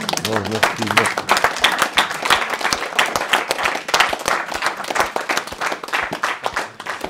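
A debate audience breaks into sustained applause, a dense crackle of many hands clapping close by, with a voice speaking briefly at the start.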